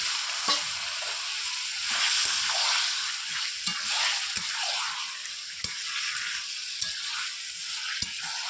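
Chicken pieces are turned through fried spice paste in a pan for chicken kosha, an even sizzling hiss punctuated by occasional sharp clicks of a spoon against the pan, steady and close.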